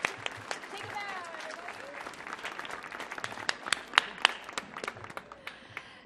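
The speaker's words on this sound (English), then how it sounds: "Give yourselves a round of applause." Audience applause after a flute solo at a Millennium Stage flute jamboree concert, a dense steady patter of many hands clapping at moderate distance that builds a little toward the end, with a few louder sharp claps standing out.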